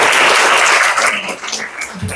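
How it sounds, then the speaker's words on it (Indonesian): A classroom of students claps together in a short burst of applause that quickly thins and fades, loud and close at first. "Tepuk tangan untuk semuanya."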